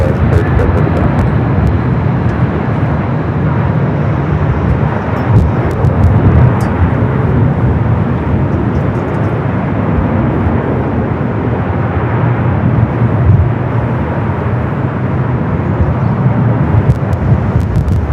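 A Virgin airliner at LAX airport produces a steady, loud, continuous jet roar that holds for the whole stretch with no pauses.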